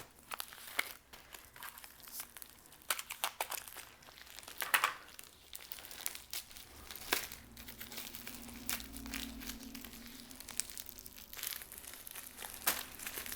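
Someone rummages by hand through a large bag during an unboxing, with close, quiet crinkling and rustling of plastic or paper in irregular bursts and no talking.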